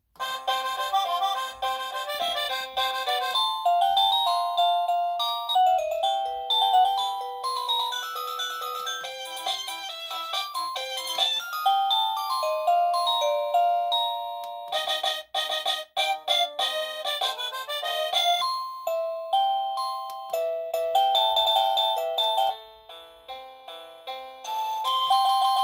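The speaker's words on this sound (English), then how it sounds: "and here's the different chimes." A wireless classroom doorbell cycles through its different chime melodies, a string of bright electronic tunes played one after another with brief pauses between them, clear and alone.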